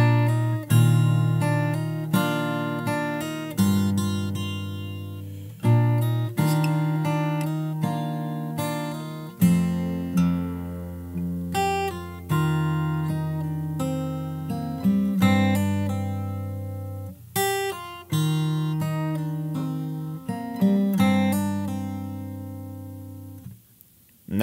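Fingerstyle acoustic guitar playing the full verse of a song, bass notes under plucked melody and chord hits in a steady groove, close and clean with no voices.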